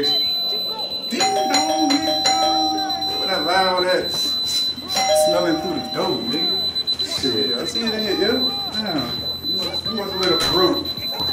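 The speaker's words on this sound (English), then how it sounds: "Damn, you got a fire alarm in this" A fire alarm rings indoors as a steady high electronic tone that persists under loud overlapping talk and shouting, with a few brief chime-like beeps standing out early on.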